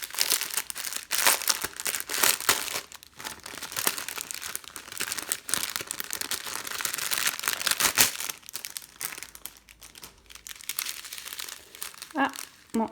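Plastic packaging of a diamond painting kit crinkles and crackles continuously up close during an unboxing, with a voice speaking briefly over the rustling.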